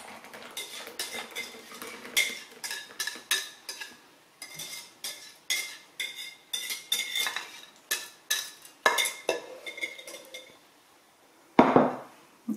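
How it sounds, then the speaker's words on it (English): A spoon scrapes and clinks against a bowl while stirring sour cream cranberry pie filling, in a steady run of close, rhythmic strokes with short pauses, ending with a louder clatter as the filling is poured. No one speaks. "Now all I'm going to do is give this one final stir and pour that in there."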